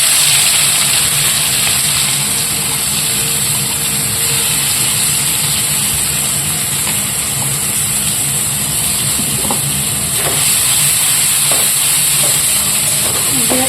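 Chopped onion and tomato fry in hot oil with bay leaf and whole garam masala, producing a loud, steady, continuous sizzle close up.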